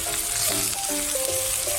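Steady sizzling and crackling of chicken adobo frying in a hot pan, with faint stirring scrapes, continuous and close.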